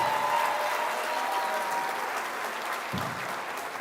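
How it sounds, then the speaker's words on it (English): Spectators at a county fair goat and swine showmanship final give a big round of applause, an even, continuous patter of many hands that stays fairly steady throughout with no talk over it. "Let's give them a big round of applause."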